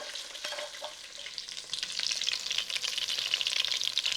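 Food sizzles and crackles steadily in a hot frying pan, the hiss growing louder and busier toward the end, with no talking.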